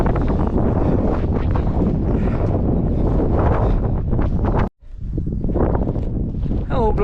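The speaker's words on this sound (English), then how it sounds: "Woo, it's windy." Strong wind on the open Lake District fells buffets the microphone with loud, continuous roaring gusts, broken by a brief lull near the end.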